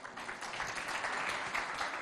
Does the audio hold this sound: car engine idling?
no